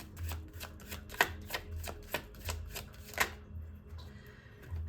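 Tarot cards are shuffled and drawn in quick succession, producing close, crisp ticking and flicking taps in an uneven rhythm, with a few sharper snaps as cards are pulled.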